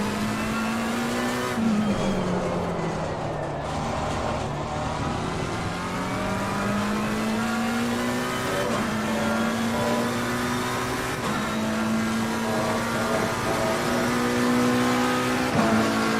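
Race car lapping Silverstone in Assetto Corsa Competizione, its engine note climbing and falling through gear changes in a continuous loud whine, with brief downshift blips and occasional tire squeal, no talking.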